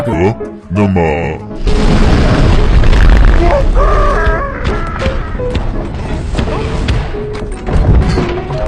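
A giant's fart in the film The BFG: a loud, low booming blast bursts out and rumbles on for several seconds, mixed with cartoonish tones and effects.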